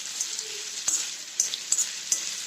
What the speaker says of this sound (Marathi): आता कांदा चांगला खरपूस भाजणार आहे